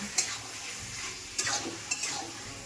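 Meat curry is stirred and sautéed in a pan on a gas stove, a soft sizzle underlying three quick scraping strokes of a spoon against the pan, fairly quiet and close.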